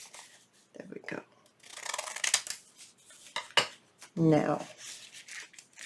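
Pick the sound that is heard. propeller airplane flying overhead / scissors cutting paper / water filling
scissors cutting paper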